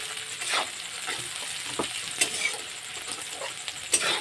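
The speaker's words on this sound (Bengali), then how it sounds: "পেঁয়াজ দিয়ে একটু নাড়তে থাকবে" Onions with a pinch of salt sizzle steadily in hot oil in a pan, with sharp scraping stirs of a spatula breaking through at intervals, close and without any talk.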